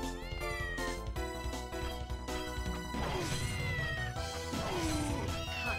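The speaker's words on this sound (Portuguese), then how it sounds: "Agora eu tô ouvindo o gato." Cat meows from the Castlevania Order of Ecclesia video game rise and fall as short wavering cries over loud, dense game music, with a few crashing hits.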